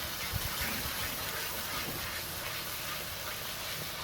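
Spices (masala) frying in a pan while cooking on a rooftop: a steady, even sizzle with dense hiss continues throughout, fairly soft, with no voices.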